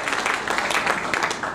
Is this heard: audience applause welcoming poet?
yes